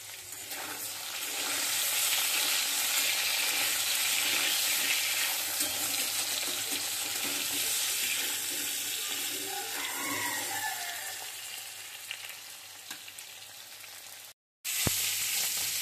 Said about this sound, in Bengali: এই তো এখানে আমি মাছগুলি হালকা করে ভেজে নিয়েছি